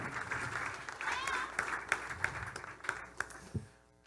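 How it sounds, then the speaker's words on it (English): Listeners at a startup pitch event give a short round of clapping, fairly faint and thin with distinct individual claps scattered over a few seconds, fading out quickly at the end. "I just want to give a huge round of applause to the guys at Radius because they are amazing"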